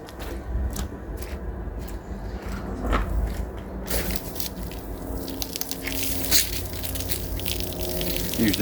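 Jet washer spraying water onto a Lotus Excel SE during its first clean in 23 years, a continuous loud hissing gush that shifts in intensity as the spray moves across the car.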